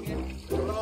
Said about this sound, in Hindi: अब डालें पानी इनके ऊपर